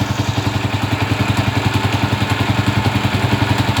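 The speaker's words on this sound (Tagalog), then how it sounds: "yan po yung andar nya mga ka-motors napakagandang andar" A repaired Honda TMX motorcycle engine runs steadily at idle with a rapid, even low-pitched chugging beat and light mechanical clatter, close and loud, no voices.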